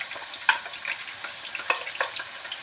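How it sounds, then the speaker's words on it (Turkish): Peppers and onions sauté in a pan with a steady hissing sizzle and a few sharper utensil clinks and scrapes. The sound is close and fairly loud, with no voices. "Bunları güzelce bir kavuracağız iyice soteleyeceğiz"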